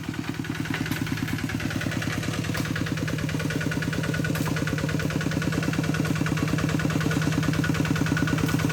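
A small single-cylinder engine of a Kubota RT90 walk-behind tractor, at least five or six years old, chugs in a fast, even putter with metallic clatter, running continuously and close by.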